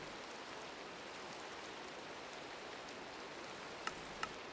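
Steady rain in the video game Minecraft, a dense even hiss throughout with two brief faint clicks near the end.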